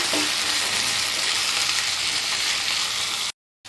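Salted potatoes roasting in hot oil for a potato fry, a loud, dense and continuous sizzle heard up close that cuts abruptly to silence just before the end.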